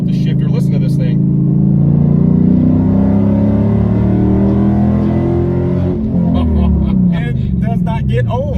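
A manual-transmission Dodge Challenger revs and pulls hard through the gears, its deep V8 rumble loud and close throughout, with a brief dip around a shift before climbing again.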